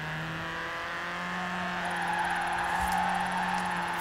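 A stock front-wheel-drive Ford Fiesta slides sideways downhill in Forza Horizon 4, its engine holding a steady droning note with a faint tire whine layered on top, continuous and close with no voices.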